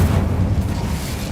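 An Incendio fire spell goes off in Hogwarts Legacy as a dense, roaring whoosh of flame, loud and sustained across a brief burst with no voices.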